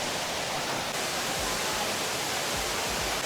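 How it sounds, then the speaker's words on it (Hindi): A waterfall on Koh Samui roars as a steady, dense wash of rushing water, close and constant throughout with no voices. "is this the waterfall"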